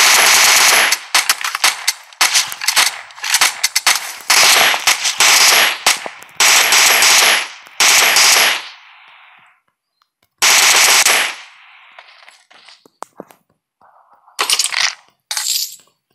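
Bursts of automatic gunfire in the mobile game PUBG Mobile, loud rapid rattling volleys in repeated clusters separated by short silences, with no talk.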